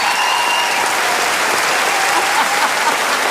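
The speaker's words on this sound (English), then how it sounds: "Give me a round of applause, man, here" Sustained, loud applause from a comedy show audience at the Melbourne International Comedy Festival, a dense continuous wash of many hands clapping with a little cheering, steady throughout with no talk over it.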